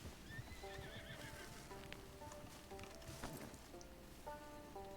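A horse whinnies repeatedly while hooves clip-clop at a steady pace in the Red Dead Online video game, the neighs carrying over soft rain-like ambience, with no talk.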